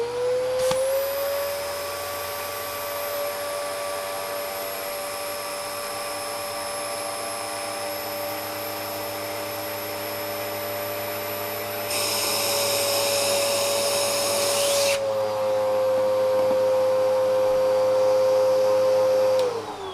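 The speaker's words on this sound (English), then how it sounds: "take our vacuum cleaner and suckle the air out of that thing" A household vacuum cleaner sucks the air out of a plastic storage bag with a loud, steady, high-pitched whine, its pitch shifting briefly midway and climbing as the bag empties, heard close and alone.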